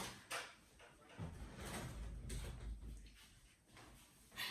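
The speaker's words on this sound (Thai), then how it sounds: "ขอปิดประตูแป๊บนึงได้ค่ะ" A door slides and bumps shut nearby, with soft scraping and rumbling movement, ending in a faint knock.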